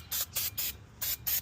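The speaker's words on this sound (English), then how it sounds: "spray some brake clean on it." Brake cleaner sprayed from an aerosol can onto the front wheel hub of a 2010 Subaru Legacy during a brake pad change: five short, close hissing bursts, evenly spaced and clearly heard, with no talking.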